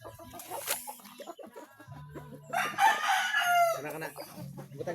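Farm chickens cluck close by while a rooster crows loudly near the start, the fowl noise running throughout with brief voices in the background.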